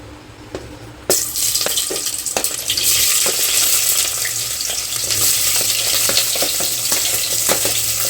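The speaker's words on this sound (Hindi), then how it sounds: "तो अभी मैं यहाँ पे प्याज को फ्राई करूँगी।" Onions dropped into hot oil for biryani, a sudden loud sizzle that keeps hissing and crackling steadily, with occasional scrapes and clinks of stirring.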